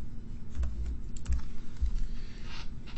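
Keys clack on a computer keyboard in short irregular bursts of close, soft typing, with no talking.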